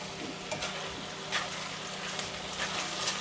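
Spicy pork bulgogi sizzles steadily in a hot pan with green onion while a utensil stirs it, giving light scraping taps over a continuous close frying hiss.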